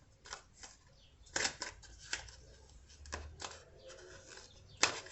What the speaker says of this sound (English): I'm shuffling the cards right now, and sometimes I shuffle in between each card pulled